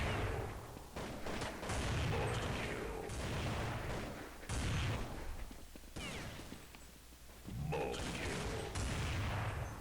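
AWP sniper rifle shots in CS:GO, heavy booming reports spaced a couple of seconds apart amid continuous game noise, each shot loud and close with a short rumbling tail.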